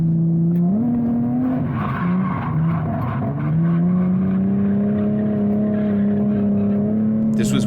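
A car drifts through a corner at Midpond, its engine holding a loud, sustained drone that dips and climbs as the throttle is worked, with tire noise underneath and a brief burst at the end.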